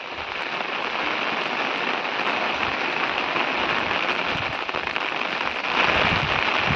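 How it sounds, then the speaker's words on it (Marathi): Steady monsoon rain falls and patters on a surface during rice planting in Konkan, a dense continuous hiss that holds an even level throughout, with no voices. "पाऊस पण हा"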